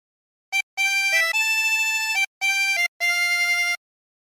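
A 16-hole tremolo harmonica plays a phrase of O Christmas Tree, with a few clear, sustained reedy notes separated by short breaths, close and alone.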